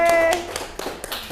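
An audience gives applause for Mas Dimas, with a few sparse handclaps and taps under a bright cheering voice and some talk, brief and close rather than a full ovation.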